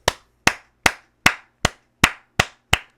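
Eight sharp, evenly spaced single claps ring out one by one with short gaps between them, close and crisp, with no crowd behind them.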